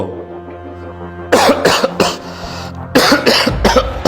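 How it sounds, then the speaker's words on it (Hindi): A man coughs in a home setting, a quiet hum giving way to a loud fit of repeated harsh coughs in two bursts, close and clear with no talk. "अब मुझे खांसी आई"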